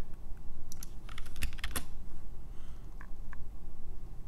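A few quick clattering keystrokes on a computer keyboard, with a brief burst of tapping and then scattered single clicks over a steady low hum, close by and without speech.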